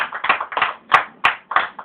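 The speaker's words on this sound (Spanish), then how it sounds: "Fuerte, fuerte el aplauso para Cristo." A church congregation claps for Christ; close, sharp hand claps come in quick uneven bursts with no talking over them.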